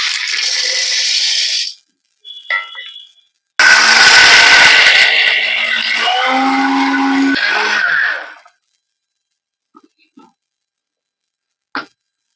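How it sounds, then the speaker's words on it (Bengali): Roasted chickpeas being ground into sattu flour in an electric grinder: a harsh, loud whirring grind in two bursts, a short one followed by a longer sustained run, with brief clatters between and a few faint knocks afterward. "এবার আমি এটা গ্রাইন্ড করে ছাতু বানিয়ে নেব।"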